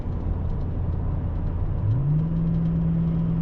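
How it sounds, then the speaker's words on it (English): A truck rolls past on a desert highway near Yuma, Arizona, by the Imperial Dunes. Its steady engine drone and road rumble swell and rise in pitch as it goes by close, with no one speaking. "after this truck passes by"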